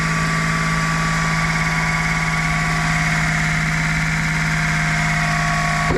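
A Honda Today kei car engine idles steadily and close, with an even, buzzing drone and faint vibration throughout and no voices.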